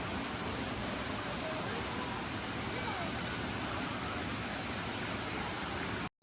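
Waterfall at Forest Camp near Dumaguete, Philippines: a steady, loud, broadband roar of falling water filling the whole stretch without pause, cutting off abruptly at the end.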